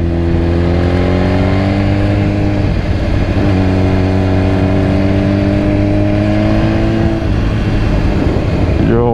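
A BMW S1000RR sport bike engine revs up strongly through the gears, its rising whine climbing, dipping at a shift, then climbing again, loud and close with wind behind it.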